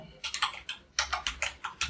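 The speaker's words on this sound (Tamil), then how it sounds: "டாக்டர்னு டைப் பண்ணிக்கிறேன்" Typing on a computer keyboard in quick bursts of close, crisp key clicks, several irregular clusters with short pauses between them, alone without any voices.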